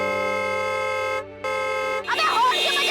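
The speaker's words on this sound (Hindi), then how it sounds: "अबे हॉर्न क्यों बजा रहे हैं" A loud, sustained car horn blares, cuts off briefly, then resumes before a voice breaks in over it.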